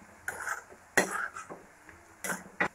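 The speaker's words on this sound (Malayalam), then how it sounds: "ഇനി കൈ വിടാതെ ഇളക്കി കൊടുക്കുക. നന്നായിട്ടൊരു ഗോൾഡൻ കളർ ആവുന്നവരെ വറുത്തെടുക്കാം." Sliced onions stirred as they fry in a pan for Kerala-style beef dum biryani, with several distinct clinks and scrapes of a utensil against the pan spaced irregularly over faint background sizzle.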